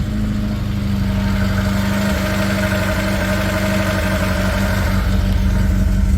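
A Ford Fairlane engine, not started in years, runs with a rough, steady mid-pitched idle and faint knocking vibration, loud and close throughout without speech.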